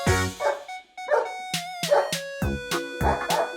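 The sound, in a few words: dog barking in toy animal video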